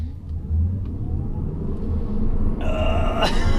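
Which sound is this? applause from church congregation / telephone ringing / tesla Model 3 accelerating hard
tesla Model 3 accelerating hard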